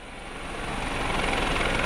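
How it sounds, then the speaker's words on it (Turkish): A rescue helicopter evacuating people stranded by floods near the sea in Kastamonu roars loud and close, its dense rotor and engine noise steady and slightly building across a brief stretch. "Bir helikopterle tahliye anına ilişkin görüntüler bunlar."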